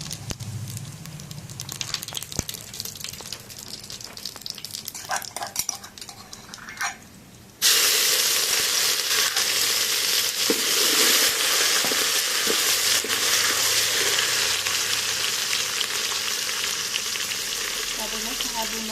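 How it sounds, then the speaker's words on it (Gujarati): Ginger tempering with cinnamon, bay leaf, star anise and cumin sizzles loudly in hot oil, a steady broadband crackle that jumps louder partway through as more goes into the pan, with faint utensil clinks. "આપણે મસ્ત આદુનો વઘાર થઈ ગયો છે"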